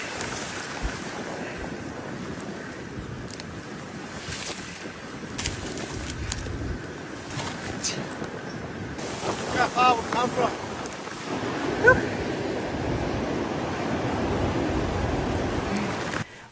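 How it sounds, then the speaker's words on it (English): Steady wind buffeting the microphone with a broad rushing hiss, rain and gusts blending into continuous outdoor noise, brief louder gusts midway. "it's raining, it's windy"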